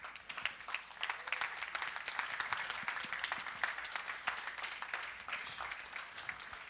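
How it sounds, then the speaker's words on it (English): A keynote audience at a business conference gives itself a round of applause, a moderate, fairly distant clapping crowd with irregular sharp claps, heard alone without talk. "You want to stand up and give yourselves a round of applause?"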